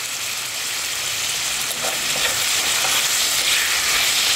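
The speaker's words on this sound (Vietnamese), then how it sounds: "Mình sẽ chiên cho đến khi nào nó rám vàng." Steady, dense sizzling of chicken frying in hot oil in a pan until golden, close and constant with a crackling hiss throughout.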